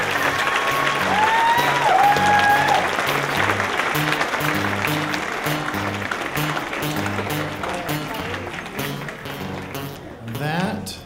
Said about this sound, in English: Another round of applause for Kusha.